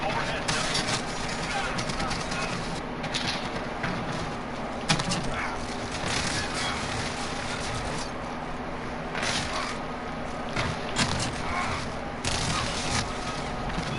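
Rapid gunfire bursts and shotgun blasts from the Modern Warfare video game, sustained and fairly loud through the whole stretch, with a voice talking over it at times.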